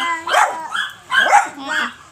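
A dog barks three times in quick succession close by in a backyard in the provinces, the barks bright and yippy with a slight whine, coming one after another within about two seconds.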